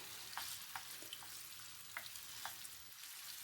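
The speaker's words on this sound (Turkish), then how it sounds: "Her iki salçada birbirine karışana kadar güzelce karıştırıp kavuruyoruz" Pepper paste and tomato paste sizzle and fry in oil in a pan for acuka, a steady soft hiss with faint, regularly spaced scrapes of a spoon stirring, no voices.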